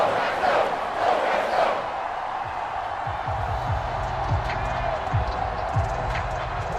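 A large crowd at an American football game roars and cheers in a continuous wash of noise, loudest at the start, then settling into a steady distant rumble.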